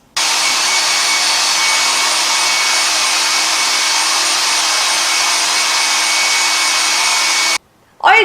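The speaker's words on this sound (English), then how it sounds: "done drying my hair." A hair dryer blows steadily on hair, a loud, constant airy whir that runs for about seven seconds before cutting off, followed by a short burst of speech.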